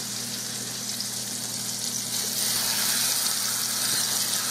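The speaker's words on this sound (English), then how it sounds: "Going to brown these old pork chops." Partially frozen pork chops seasoned with Tony seasoning browning in a hot pan, a steady loud hiss and crackle that swells slightly toward the end, with no talking.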